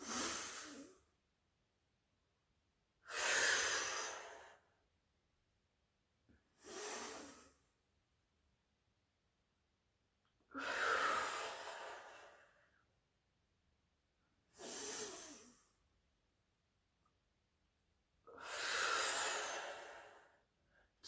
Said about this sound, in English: So 5 more inhales and exhales.